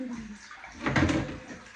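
Water is poured into a container for bathing beside an old stove, a short splashing gush rising in the middle of the clip, near and moderately loud, after a brief bit of speech.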